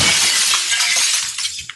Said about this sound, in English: I thought someone smashed my window